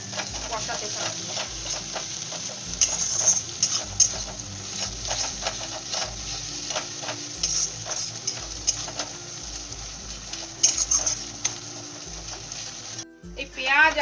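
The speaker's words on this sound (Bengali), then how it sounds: "এবারে রসুন আর আদা বাটাটা দিয়ে দিলাম, এটা দিয়ে ভালো করে কষাতে থাকবো" Garlic and ginger paste sautéed in a pan for egg biryani, with a continuous close sizzle broken by repeated rhythmic scraping strokes of a spatula against the pan, a knock at the very end.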